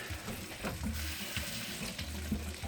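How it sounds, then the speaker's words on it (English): Hands are rinsed under running tap water in a kitchen, a soft, continuous splashing hiss at low level with no talking. "rinse off the hands"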